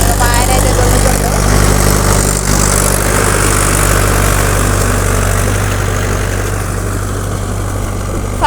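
A tractor engine runs steadily while ploughing a paddy field, a loud low drone with constant rumble and mechanical clatter throughout, close and continuous.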